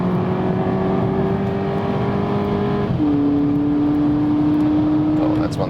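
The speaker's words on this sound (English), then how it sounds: "And even stay on the gas a little bit in the corner." A car engine holds a steady, loud drone at high speed through a corner, its pitch dipping briefly mid-way with a gear change and then settling into a strong sustained tone.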